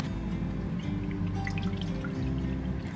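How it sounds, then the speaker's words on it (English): Evaporated milk poured into a bowl for a food-storage dinner, a soft close trickling and dripping of liquid over a low background hum. "Add your evaporated milk in."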